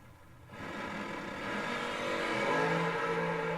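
A 1980 Camaro race car engine revs and builds in loudness at a drag strip event, a steady roaring drone that swells after a brief quieter start and holds near and loud.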